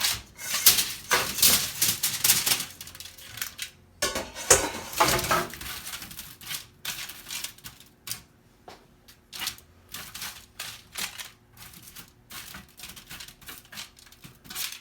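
Tossed corned-beef side food is tipped onto a pan for the oven, a close, busy clatter of pieces landing and scraping for several seconds before settling into sparse, quieter taps.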